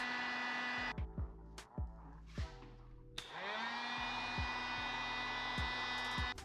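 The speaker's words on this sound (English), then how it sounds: "It's easier to use a heat gun on it without the front brake" Heat gun shrinking heat shrink tubing during mountain bike brake work on a 2020 Meta HT AM: a quiet steady blower whine that is switched on and off with several short clicks, then runs continuously.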